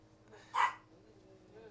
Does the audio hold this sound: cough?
no